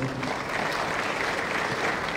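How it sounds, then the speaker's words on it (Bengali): A large audience at an official booklet launch event applauds loudly and continuously, dense steady clapping that fills the whole moment. "সবাই মিলে প্লিজ একবার জোরদার করতালি দিন"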